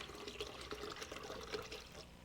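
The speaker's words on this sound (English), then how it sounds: "I also will put some water" Water pours faintly and steadily over coconut meat, a soft continuous trickle and splash that runs for a couple of seconds.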